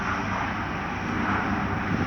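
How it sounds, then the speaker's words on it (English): A train rumbles past with a steady, heavy roar that fills the whole clip, continuous and fairly close, with no voices. "Is that a plane or a train? That's a train."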